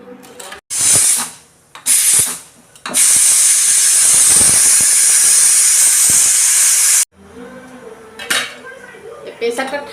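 A pressure cooker lets off steam while ghugni is being made, with short loud hissing bursts followed by a long, steady, forceful jet of steam that cuts off abruptly, leaving quieter kitchen sounds.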